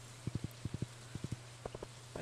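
Horse hooves clip-clop in the farming game Stardew Valley, in short rhythmic bursts of two or three steps over a steady low hum, fairly soft and close.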